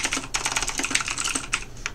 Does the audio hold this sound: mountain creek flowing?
no